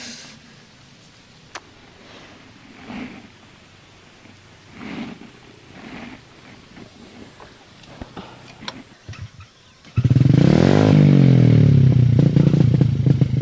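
A motorcycle engine, an ojek taxi bike, starts after quiet ticking and clatter, then runs loud and close, revving with a rough, steady roar.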